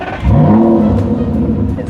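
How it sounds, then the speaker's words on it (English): An Aston Martin V12 Vantage S engine fires up with a sharp starter catch, then a loud, close V12 flare that settles into a steady, rumbling idle. "of course I have to show you how we start the car."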